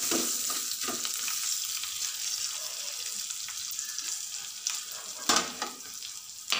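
Ginger and green chillies fry in hot oil for a dal tadka, a steady close sizzle with occasional spoon-stirring scrapes and a few louder clatters toward the end, no voices.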